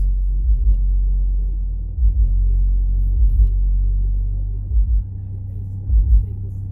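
A car engine on an audio-system setup revs as the accelerator is pressed, giving a deep, close rumble that swells in several repeated surges over a steady idle.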